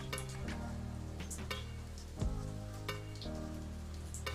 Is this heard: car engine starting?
no